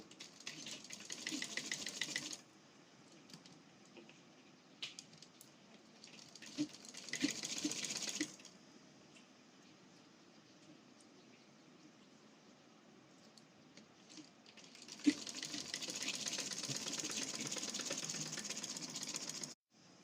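Sewing machine stitching the shoulder and neck seams of a short kameez, running in three bursts of steady whirring rattle separated by quieter pauses with small handling sounds, close and clear with no talk.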